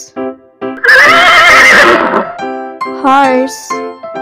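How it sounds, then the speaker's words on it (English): A horse whinnies loudly once, a long shrill neigh with a wavering pitch, between short spoken words from a narrator in an animal-sounds lesson for children. "horse"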